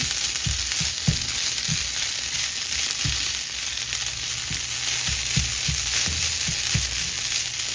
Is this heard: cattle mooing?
no